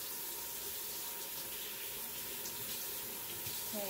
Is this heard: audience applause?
no